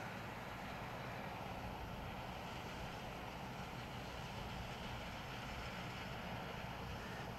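An MJX Bugs 16 Pro drone climbs in altitude outdoors, its motors producing a steady, continuous whir of even loudness throughout, with no talking.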